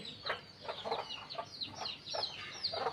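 Repeated soft clucks and faint high peeping sound close by in a steady, busy patter, with no voices.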